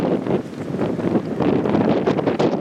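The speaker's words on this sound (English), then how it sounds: "Man, it's windy." Loud, gusty wind roaring and buffeting the microphone without a break in the Pennsylvania big woods, no voices present.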